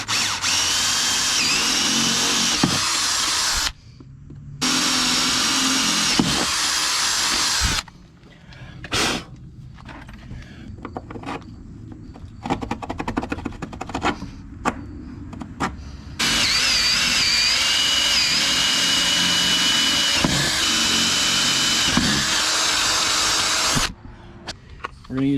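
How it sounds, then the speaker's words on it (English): Loud bursts of a power drill whirring at high speed, drilling eyelet holes in a boat, alternating with quieter gaps of clatter, handling noise and brief talk. "we're going to drill the holes for our eyelets."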